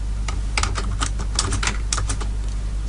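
Code is typed on a computer keyboard in quick uneven bursts of crisp key clicks over a low steady background hum.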